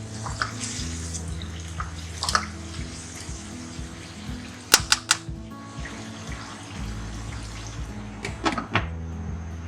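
Water is poured into a pot of cooking tomatoes while making a spinach-and-beef curry, a steady running splash close by, broken by a few sharp clinks of utensils.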